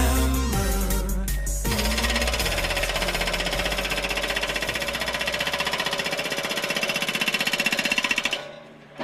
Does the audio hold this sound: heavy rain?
no